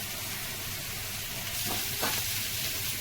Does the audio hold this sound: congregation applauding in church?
no